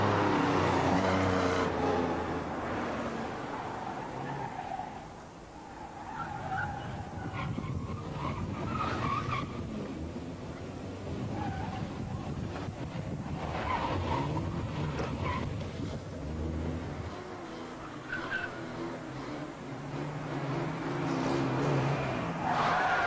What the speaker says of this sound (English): Sierra Foxtrot 1, pursuing stolen car west along Denmark Street.